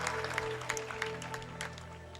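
A church congregation claps during a worship service, a brief burst of dense applause with a tonal drone and faint voices underneath.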